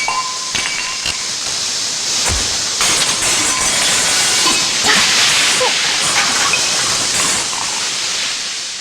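Steam hisses loudly and continuously from a pressure cooker, a harsh broadband rush with occasional metallic clinks and knocks.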